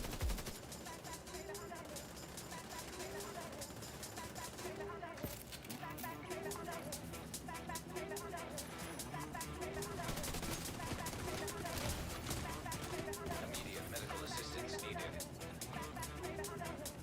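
Assault rifle gunfire in the video game The Division 2, steady bursts of shots running through the whole stretch under constant game noise, with someone talking over it.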